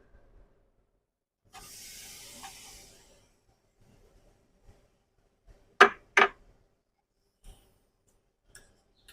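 A brief burst of sizzling hiss from a hot pan, followed by a few sharp clicks and knocks, then quiet.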